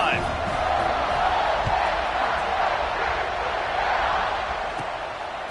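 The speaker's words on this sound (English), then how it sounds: "this crowd is feeling themselves after that last drive" A football stadium crowd at a college game roars steadily and loudly throughout, a dense, sustained wall of cheering that fades only slightly near the end.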